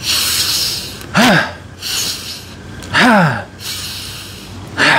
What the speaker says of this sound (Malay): You tarik nafas.